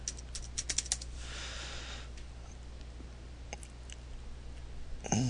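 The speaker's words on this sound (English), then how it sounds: "in there you want to type regedit" Computer keyboard keys tapped in a quick burst of clicks at the start, then a few scattered keystrokes afterward, close and clear over a quiet room.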